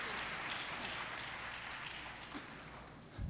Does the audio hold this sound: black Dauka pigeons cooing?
no